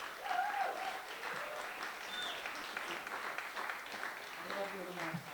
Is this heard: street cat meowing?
no